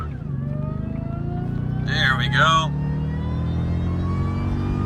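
A Jaguar XKR with traction control switched off accelerates hard, its engine revving and rising in pitch through a gear change, with someone speaking briefly midway.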